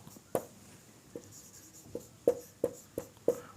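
Someone writes on a board during a physics lesson on light reflection, producing a series of sharp, irregular taps and strokes, close and clear against a quiet room.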